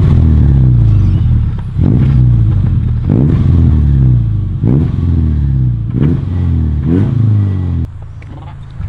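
A straight-piped Holden Commodore SV6 engine revs hard again and again in loud, close blips, each rise falling back with crackling pops and bangs between them.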